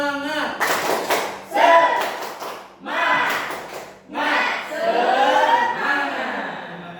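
A class of students claps together in a rhythmic group clap while chanting loudly, with several bursts of clapping and voices separated by short gaps.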